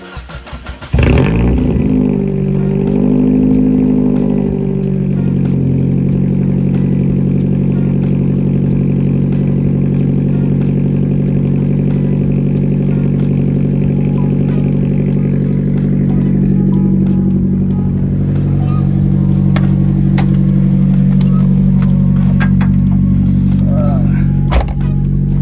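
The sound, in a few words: 1999 Mazda Miata NB1 with muffler delete cold start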